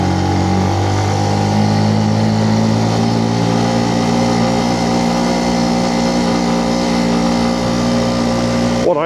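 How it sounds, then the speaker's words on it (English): A Benelli BN125 motorcycle engine drones steadily while climbing Hardknott Pass, a loud continuous mid-pitched hum with a stable tone that holds throughout before cutting off at the end. "you can certainly get up here on a Benelli BN125."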